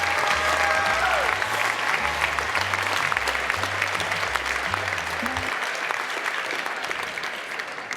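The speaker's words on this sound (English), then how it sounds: "Let's have another round of applause for our computer-aided pattern design class." A fashion show audience at a BYU-Idaho apparel design event gives sustained, thick applause for a computer-aided pattern design class, with a low, steady music line pulsing underneath that drops out partway through.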